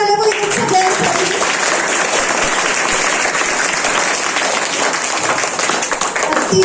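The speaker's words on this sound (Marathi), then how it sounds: "जोरदार टाळ्या झाल्या पाहिजे सगळ्यांसाठी" Loud, sustained applause from an audience for student performers at a Chhatrapati Shivaji Maharaj Jayanti school celebration, steady clapping filling the whole stretch with a hint of crowd voices mixed in.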